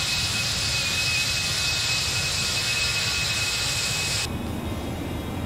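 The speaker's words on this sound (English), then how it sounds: "we've got these CFMs screaming in our ears" CFM jet engines of a ToLiss A319 airliner in X-Plane 11 give a loud, steady roar with a high whine, running constantly and close, then drop sharply in the upper range near the end as the sound becomes muffled.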